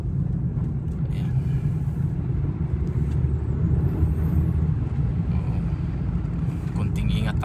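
A car passes on a snowy road during a snowstorm, a steady low rumble of engine and tyres heard from inside a moving vehicle, with its own road noise constant throughout and faint clicks near the end.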